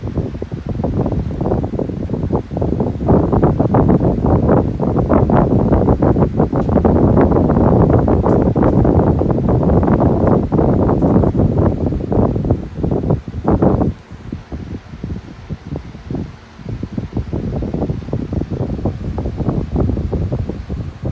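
An Albany ceiling fan on a 5-speed controller, a steady broadband whoosh of moving air with rustling texture, loud and continuous, easing and turning choppier in the final third.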